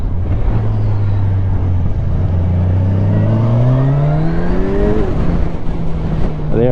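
Kawasaki Ninja 1000 SX motorcycle engine revving loudly and climbing in pitch, then dropping as it shifts gear before pulling again, a close, continuous roar.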